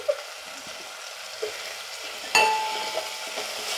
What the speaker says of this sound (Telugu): ఇప్పుడు ఈ 2 ముక్కలు బెండకాయలు కూడా దాంట్లో వేసుకోవాలి.